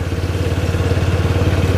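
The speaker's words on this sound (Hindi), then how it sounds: "5वें गियर में ये बाइक जाएगी बिना किसी थ्रॉटल के" A TVS Apache RTR 160 motorcycle runs in fifth gear with no throttle, a close, loud, rapidly pulsing low engine thump with a steady clattering rhythm.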